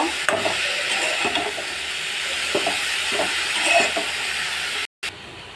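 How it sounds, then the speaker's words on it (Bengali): Pepul greens being stir-fried with onion and garlic, a steady close sizzle with rhythmic scraping stirs throughout and a brief dropout near the end, no talk. "শাকটা এবার খুব ভালোভাবে নেড়ে চেড়ে একটু ভাজা ভাজা করে নেব।"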